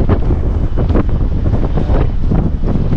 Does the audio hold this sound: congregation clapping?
no